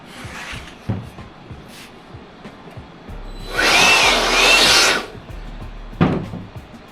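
A loud, whining table-mounted router rounds over wood edges for about two seconds, a harsh, bright rasp rising over quiet workshop rustles and knocks.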